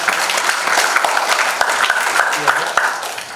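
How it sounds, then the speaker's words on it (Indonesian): An audience at a prayer camp claps for a few seconds, a dense burst of close applause with talking underneath. "Tepuk tangan dong teman-teman"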